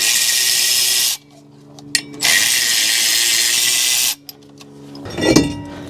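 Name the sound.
removing stuck bolts from Toyota Camry brake hub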